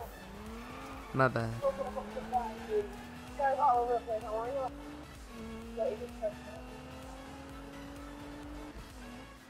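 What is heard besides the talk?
car tires squealing while drifting in Need for Speed video game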